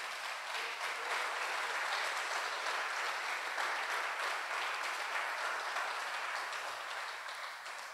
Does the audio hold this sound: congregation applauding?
yes